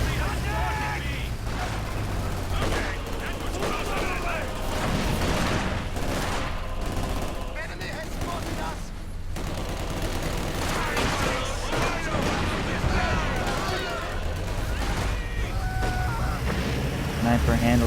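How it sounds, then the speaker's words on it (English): Sniper and infantry gunfire from a Company of Heroes–style real-time strategy match, scattered shots and bursts mixed with explosions and battle noise, continuous and fairly loud beneath a commentator's voice. "The sniper is taking shots from this area."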